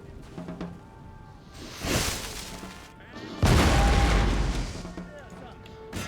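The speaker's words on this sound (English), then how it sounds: "Cannon ready, sir. Can it shoot?" Cannon fire in Total War: Napoleon, two heavy booming blasts with long rumbling tails, the second louder and deeper, with scattered battlefield noise and voices in between.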